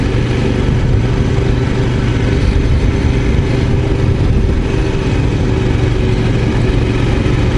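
A Royal Enfield Scram 411 motorcycle engine runs steadily and loudly, a constant close-up drone with no talk, riding a country route.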